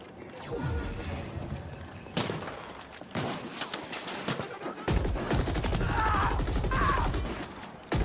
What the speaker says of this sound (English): One piece of advice for people playing who prefer the riot gun, the shotgun, you must keep it loaded.